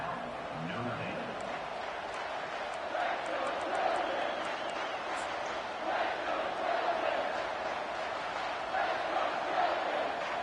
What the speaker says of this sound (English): Third down, and this crowd will blow out a vocal cord